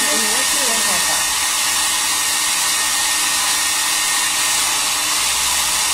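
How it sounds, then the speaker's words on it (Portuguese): A hair dryer blows a loud, continuous rush of air while drying paint on pine wood, close by and steady, with a brief murmur of voice at the very start. "Vou secar bem para não fazer bobagem."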